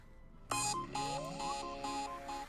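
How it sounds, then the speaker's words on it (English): An alarm clock going off during a wilderness survival game session in Vintage Story: a sudden electronic tone pattern with a rising sweep, then repeating bursts of chiming beeps, moderately loud and alone. "That was my alarm."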